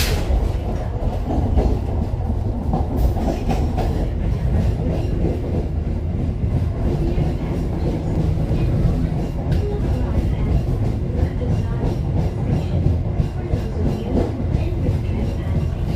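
A passenger train rolls along the rails with a constant low rumble and faint rhythmic wheel clatter, steady and loud throughout from inside the carriage.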